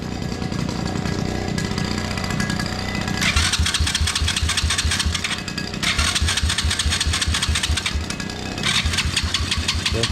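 A small engine sputters and revs in choppy bursts, catching and dying a few times with loud mechanical rattling throughout.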